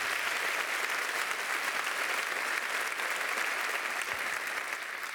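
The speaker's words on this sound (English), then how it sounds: "A big round of applause." A large audience at the 2019 European Inventor Award ceremony applauds steadily after an art performance, a dense, even wash of clapping that holds at full strength and eases only slightly near the end.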